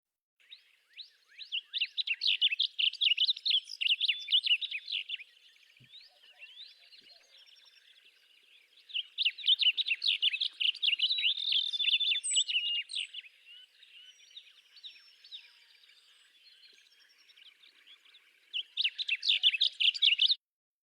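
A bird sings a husky, buzzy warble during summer at Kankakee Sands, in three bouts of rapid, scratchy phrases heard fairly clearly against a quiet background.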